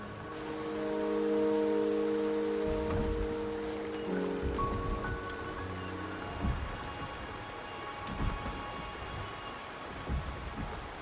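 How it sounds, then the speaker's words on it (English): Rain falls in the video game Wuthering Waves, a continuous patter with distant thunder rolling underneath, mixed with sustained tonal game music, and no voices. "The rain is subsiding"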